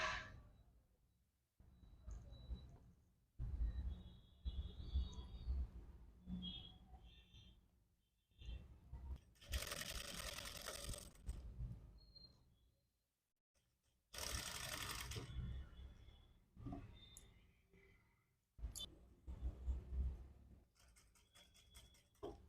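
A sewing machine stitches a readymade nightie in several bursts of running, with pauses and handling noises between runs; no talking is heard.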